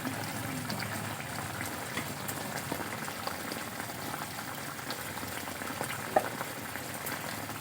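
Fish pieces simmer in a Bengali mustard curry, a soft, steady bubbling and faint sizzle close by, low in level and continuous, with one brief clink near the end and no voices.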